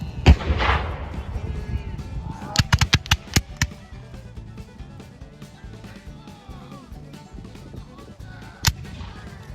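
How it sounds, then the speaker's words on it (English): Civil War reenactment battle with a loud opening blast, then a rapid cluster of sharp musket volleys and scattered artillery booms, one late heavy crack, over a murmuring crowd. "Now we're going to have us a battle."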